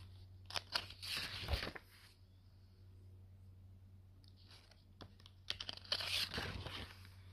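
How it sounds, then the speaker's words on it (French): Scissors cut into a knitted sweater in two separate bursts of crunchy, close snipping, with a quiet pause between them over a steady low hum. "Des ciseaux dans le pull?"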